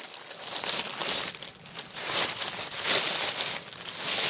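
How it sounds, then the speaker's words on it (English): A plastic mailing bag holding cross stitch kits crinkles and rustles as it is opened, with close, continuous crackling that swells and dips over several seconds. "I like these plastic bags."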